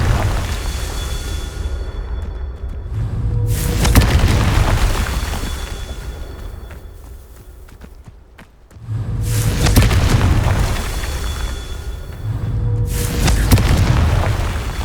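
Confringo spell explosions in the video game Hogwarts Legacy, loud booming blasts that recur with rumbling tails and short quieter gaps between them.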